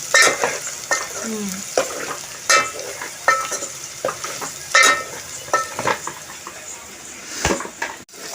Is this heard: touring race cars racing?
no